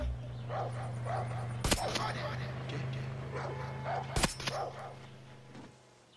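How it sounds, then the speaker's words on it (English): Dog barking in the Far Cry 6 video game, a few yipping barks that sit under someone talking, with two sharp, loud bangs that cut through. "Shut up, dog."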